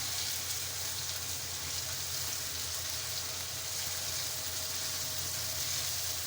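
Green and red chilies sizzling in a cooking pan, with a dense, steady hiss of frying that stays even and fairly loud from start to finish, with no voices.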